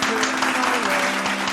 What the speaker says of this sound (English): Round of applause from the studio